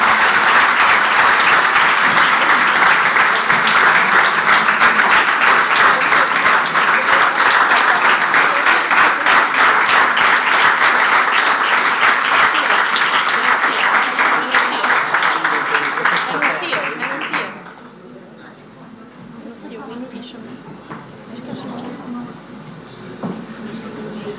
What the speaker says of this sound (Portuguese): uma salva de palmas para a deputada mais votada do Brasil